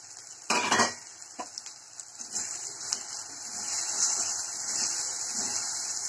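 Onion, garlic, ginger and dry spices sizzle in a pan for ghugni, a soft steady frying hiss broken by a few close metal spoon scrapes and stirring knocks.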